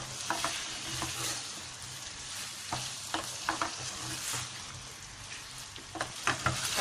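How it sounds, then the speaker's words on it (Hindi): Finger chips fry and get stirred in a pan for chilli potatoes, a steady close sizzle broken by scraping stirs and spatula knocks, with no one speaking. "अब इसमें हम ये तमाम फिंगर चिप्स डाल रहे हैं।"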